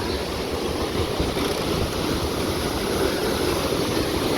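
Nevada Fall in Yosemite, heard from the footbridge as a steady, full-bodied roar of falling water, broadband and unbroken throughout with no talking.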